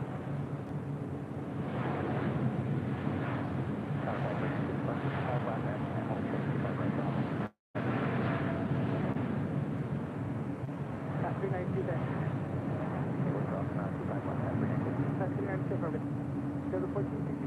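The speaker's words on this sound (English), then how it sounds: "got that Air Tahiti Nui Dreamliner now rolling down 25 right" Air Tahiti Nui Dreamliner rolling down runway 25 right at LAX, a broad continuous jet rumble with wind buffeting, heard from a distance under ongoing talk, with a brief dropout partway through.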